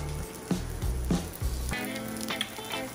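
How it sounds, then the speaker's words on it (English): Broccoli sizzling hot from a Tovala smart oven, a continuous crackling hiss with a few sharp knocks and scrapes early on, close up and without voices. "Wow, look at that sizzling."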